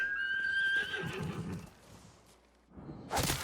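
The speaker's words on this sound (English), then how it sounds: "I'm throwing 3 kunai into the side of my horse. He is not very happy with me." A horse in the Ghost of Tsushima video game gives a loud, shrill whinny after being struck by kunai. The cry is preceded by faint hoof and movement sounds and ends with a sharp snort or whoosh.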